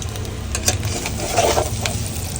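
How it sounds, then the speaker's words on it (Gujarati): Potatoes frying with turmeric in a pan with a soft sizzle while a utensil scrapes and stirs them in short strokes, close by, no talking. "આવી રીતના હલાવી નાખવાના બટેટાને"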